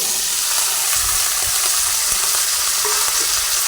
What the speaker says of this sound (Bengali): এরপরে ঢেঁড়সগুলোকে এই তেলের মধ্যে দিয়ে দিচ্ছি